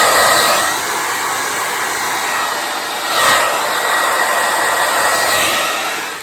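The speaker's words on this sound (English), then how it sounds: "I take my blow dryer for just a second" A blow dryer runs on hair close to the microphone, giving a loud, steady airy roar that swells briefly partway through and then fades slightly at the end.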